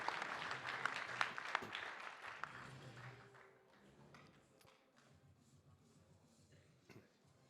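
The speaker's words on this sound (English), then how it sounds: "how about a round of applause for these 4 heavyweights, everyone?" Audience applause for four heavyweight kickboxers at a press conference, starting as a moderate burst of clapping with a few sharp claps and fading over the next few seconds into a quieter, thinning patter.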